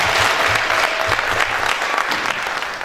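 An audience applauds during an award ceremony for Congolese people in Belgium, a dense, loud, sustained wash of clapping from a crowd close by, continuous throughout with no talk over it.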